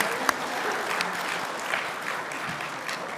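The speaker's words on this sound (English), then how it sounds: "give it a round of applause" A steady round of applause from a crowd, dense clapping that holds at an even level throughout.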